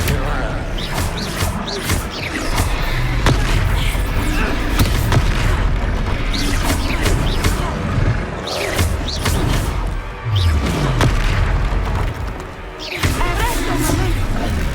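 Spell combat in the Hogwarts Legacy video game, with loud, dense magical blasts, booming impacts and whooshes sweeping through without pause, while voices speak over the battle.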